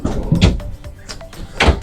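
Mirrored cabinet doors in a 2016 Unity 24 motorhome are pulled open by hand, giving a few soft clunks and scrapes at close range with no talk over them.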